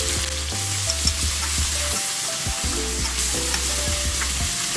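Pork, tofu and fermented black beans sizzle in a hot pan while a utensil stirs them, bright frying hiss throughout with rhythmic scraping strokes close by.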